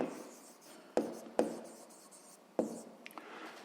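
Pen or pencil writing out a math expression on paper for a sixth-grade exercise, steady scratchy strokes with a few sharper taps, close and quiet, no talking.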